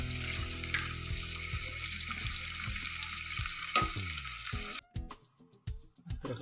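Onions frying in oil with curry leaves, a close steady sizzle with regular spatula scrapes that break off near the end into a few sparse clatters.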